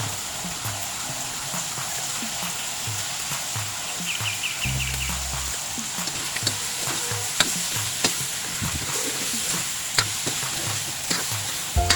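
Chicken with salt and pepper sizzles and fries steadily in a pan, a continuous crackling hiss with occasional stirring scrapes and small pops throughout.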